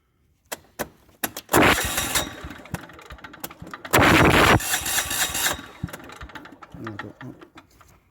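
A plate compactor's engine, just repaired with a new cable, is pull-started: sharp clicks and tugs, then two loud bursts of motor noise that falter, with a voice speaking between attempts.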